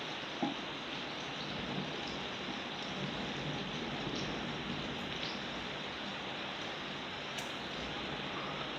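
Steady heavy rain falling during a thunderstorm in Santa Ponsa, a dense continuous hiss of drops on surfaces, close and even throughout with no clear thunder.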